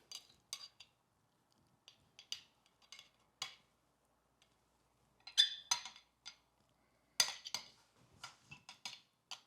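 Spoon pressing a layer of avocado down into a metal ring mold for tuna tartare, giving scattered light taps and clinks against the ring with quiet gaps between them.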